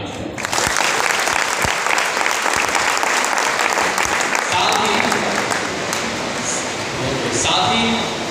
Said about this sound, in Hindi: तो एक बार अपने लिए तालियां।